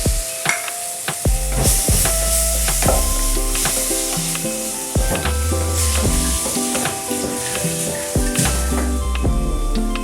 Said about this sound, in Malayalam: അപ്പോൾ ഇനി തക്കാളി ചേർത്ത് കൊടുക്കാം.